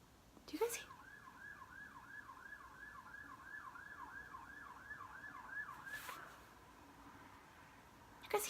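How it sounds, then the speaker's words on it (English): A siren wails outdoors at a distance, its rising and falling tone cycling steadily for several seconds and heard faintly through a quiet room, with a couple of brief bumps nearby. "You guys hear the sirens out there?"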